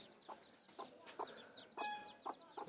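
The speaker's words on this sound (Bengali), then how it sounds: "দেখুন মুরগিগুলো একটু হাঁটাহাঁটি করতেছে।" Chickens on a poultry farm cluck in short separate bursts, fairly quiet and spaced about half a second apart, with faint rustling between the calls.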